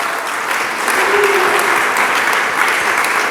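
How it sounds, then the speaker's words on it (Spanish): A church congregation claps and applauds the Lord during a Spanish-language sermon, steady dense clapping filling the room for a few seconds with faint voices mixed in. "¿Cuántos le dan palmas al Señor?"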